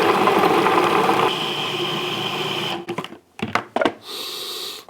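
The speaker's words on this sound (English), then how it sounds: "into the food processor we go" Food processor whirring steadily as it chops peeled ginger and garlic into paste, loud and continuous for a few seconds, then cutting out into short stop-start pulses.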